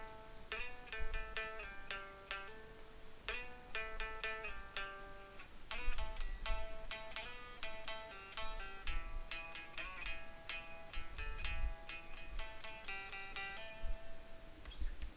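Guitar playing a song, picked chord hits and ringing notes in a loose rhythm, fairly quiet and close, with no talking.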